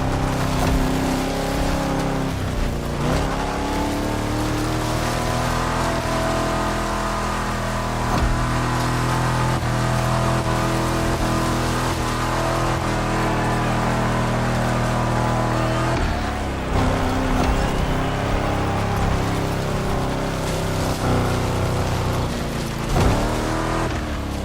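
A 1957 Cadillac Eldorado driving in The Crew Motorfest gives a steady, loud engine drone that holds for the whole stretch, shifting pitch now and then as it accelerates, with no voices over it.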